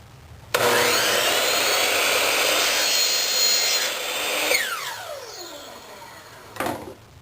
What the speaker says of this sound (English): Now I'm cutting this with a miter saw